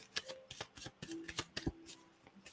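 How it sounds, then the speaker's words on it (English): Oracle cards being shuffled by hand, a quick series of soft papery riffles and taps, close but faint, with no talking. "let's pull Moonology Oracle to close it out for Leo"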